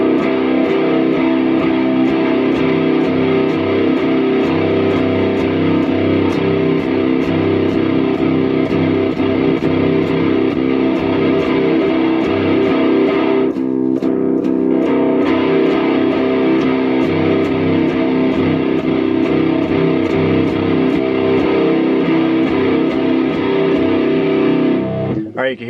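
Electric guitar played through a Mooer Black Secret distortion pedal with the distortion turned up, producing a dense, heavily saturated sustained tone with rapid picking, loud and continuous, briefly cutting out midway before resuming.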